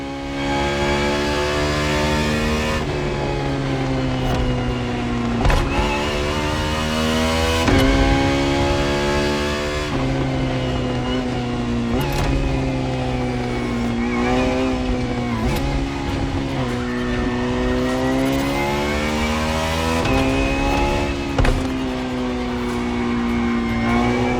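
Ferrari FXXK engine in the video game The Crew Motorfest, loud and close, revving hard through repeated upshifts with sharp gear-change cuts and rising pitch sweeps, the engine alone with no voices.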